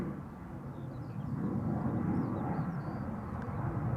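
A departing airliner at Schiphol Airport, a distant low rumbling roar that swells gradually and holds steady, with faint bird chirps above it.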